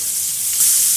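Pork tenderloin fries in a hot pan with butter, giving a loud, steady sizzle that hisses close up and surges a touch brighter halfway through, with no talking.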